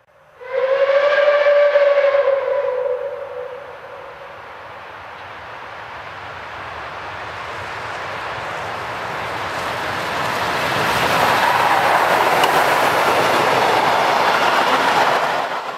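A loud, harmonic steam whistle blows for a few seconds, then steam locomotive 01 1100 rumbles and chuffs as it pulls away from Handelow station, its noise building steadily.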